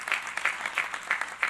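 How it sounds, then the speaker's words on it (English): Brief, moderately loud applause from a conference audience at a Hispanic leadership summit, honoring an organizer; pulses of clapping without talk over it. "can we just please give a big applause to Claudia?"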